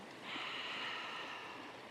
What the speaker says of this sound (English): use the sound of this lovely little stream here